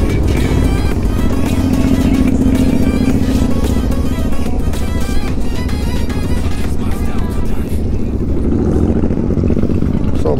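Superbike motorcycle engines and exhausts rumble loudly and continuously at a big international bikers' meet, a dense roar of several machines with crowd voices mixed in throughout.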